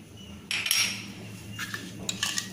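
Crushed cardamom being stirred into paniyaram batter in a bowl, heard as a few metallic spoon scrapes and clinks against the bowl, close and fairly quiet, with no talking.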